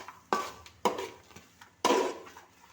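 Oil is stirred into anchovy fish pickle in a pot, with three distinct close scraping strokes of a spoon against the pot and quiet gaps between them.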